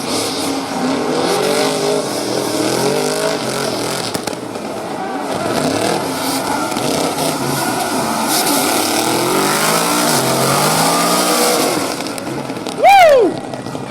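Drift cars at the Oman Oil international drift championship rev hard and howl through sustained slides, a loud, wavering engine roar with rising and falling pitch, ending in a sharp high squeal.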